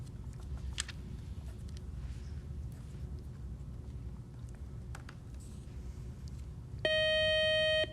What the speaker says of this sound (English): that buzzer means the end of our first toss-up round